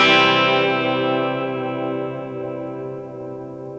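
Guitar through a Valeton GP-200LT multi-effect unit with distortion off, a clean chord struck once and left to ring and slowly decay with echo, alone and fairly loud.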